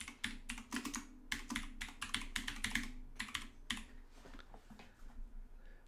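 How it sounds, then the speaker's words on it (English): Typing on a computer keyboard, a quick run of dense, uneven key clicks close up, fairly loud, easing off toward the end, with no talking. "And she keep typing, Mike."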